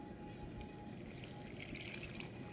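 Water trickles steadily into flour in a mixing bowl while gulgula batter is being made, a soft continuous splashing pour, close and fairly quiet, with faint light clinks over it.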